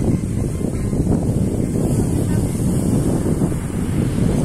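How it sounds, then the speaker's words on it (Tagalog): Strong wind roars across the microphone at night on an open beach in Um Suqeim 2, Dubai, a steady buffeting rumble with surf washing underneath, continuous and loud with no talking. "lakas ng hangin naman pati."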